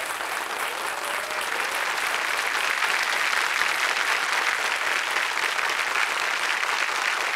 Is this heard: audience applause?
yes